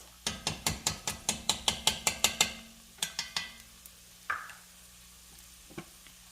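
Tomato paste cooking among soft, aromatic vegetables in a pot, with a quick run of rhythmic scraping strokes as it is stirred, then a few separate scrapes over a low, steady sizzle.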